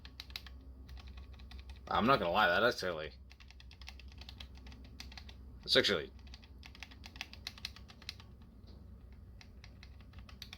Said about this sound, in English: these are mechanical switches and they do feel like a keyboard